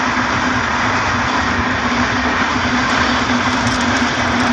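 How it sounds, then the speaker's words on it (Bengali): A train passes along a railway line through open countryside in Gazipur, heard as a continuous loud rumbling roar with a steady engine hum, close and with no talk. "ট্রেন চলে যাচ্ছে"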